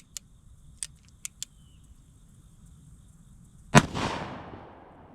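A single loud black powder .38 Special shot from an 1851 Navy conversion revolver booms sharply and fades in a short echoing tail, preceded by a few faint metallic clicks against a quiet outdoor background.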